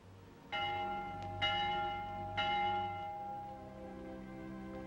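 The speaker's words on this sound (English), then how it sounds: "The Vespers bell." A church bell tolls for vespers, three strong rings with long, ringing overtones that hang and fade between strikes, heard clearly with no voices.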